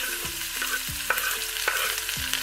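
Onions and a few pieces of cinnamon bark fry in hot oil in a pan, a bright continuous sizzle punctuated by several close spoon scrapes and stirring knocks, with no talking.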